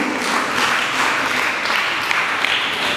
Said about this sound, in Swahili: pigie Bwana Yesu makofi.